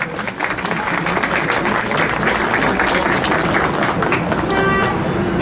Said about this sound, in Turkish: Kuvvetli bir alkış alabilir miyiz efendim?